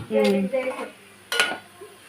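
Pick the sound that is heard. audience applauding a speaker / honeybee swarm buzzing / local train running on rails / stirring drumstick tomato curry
stirring drumstick tomato curry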